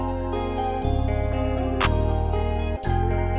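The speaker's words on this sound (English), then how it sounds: "A little bit of a spaced out hi-hat pattern." A sparse, spaced-out hi-hat pattern programmed in FL Studio for a trap guitar beat, with a few crisp bright ticks and a clap cutting through a looping guitar and heavy bass.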